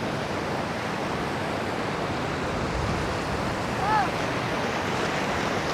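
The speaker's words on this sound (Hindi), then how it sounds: "ठंडी हवा चल रही है।" Cold wind blows steadily at a mountain lake, a broad continuous rushing roar with gentle gusting swells and no clear breaks.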